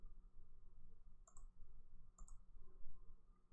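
Two crisp, faint computer mouse clicks about a second apart over a low steady room hum.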